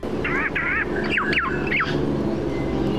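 Regent honeyeater song imitating a black-faced cuckoo-shrike: a run of clear, wavering whistled phrases, several rising and falling notes in quick succession, heard close over a steady low background rumble.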